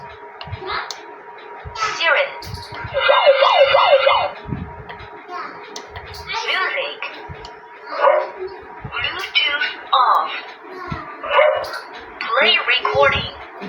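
A man imitates a dog with his voice, in a rural Gujarati setting, giving repeated bursts of bow-wow barks and howling, siren-like yelps in uneven clusters, loud and close, with brief speech between calls.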